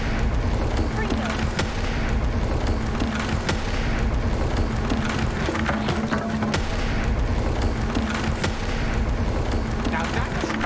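Confringo spells from Hogwarts Legacy burst in a continuous barrage of booming explosions over heavy, rumbling game combat noise, dense and loud, with occasional sharper blasts standing out.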